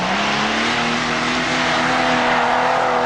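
Toyota Land Cruiser engine revving hard as it climbs a steep hill hazard during a 1985 Dunedin off-road competition, a loud, sustained high-revving drone with rising pitch and no voices.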